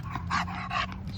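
Dog meeting a new puppy for the first time, giving a couple of short, close barks and yips in quick succession indoors, with faint talk underneath.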